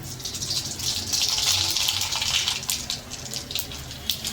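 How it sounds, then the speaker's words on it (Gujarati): Mustard seeds hissing in hot oil over a low gas flame, a close, steady sizzle that swells and eases, with a few sharp pops near the end. "તેલ ગરમ થઈ જાય એટલે ગેસ ધીમો કરી નાખવાનો એક ચમચી રાઈ નાખીશું"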